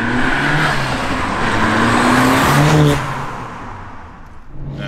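A Mk1 Ford Sierra Cosworth from the 1980s drives along with a steady, fairly loud engine drone that climbs slightly in pitch, then eases off and drops in level about three seconds in before picking up again briefly.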